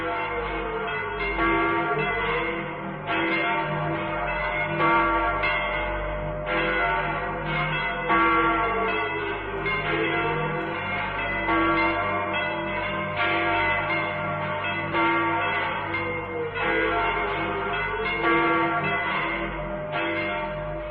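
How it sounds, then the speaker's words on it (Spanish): Church bells peal in a steady, repeating cycle of overlapping ringing tones, a full, resonant chime that carries on without pause and without voices. "las campanas de la iglesia de Snowfield empezaron a repicar"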